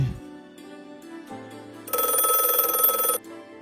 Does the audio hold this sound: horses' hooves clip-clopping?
no